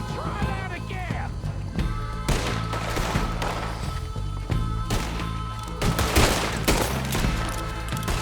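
Repeated bursts of gunfire in Red Dead Redemption 2 crack and boom in sharp clusters, some loud and close, over a busy background of thuds and game ambience.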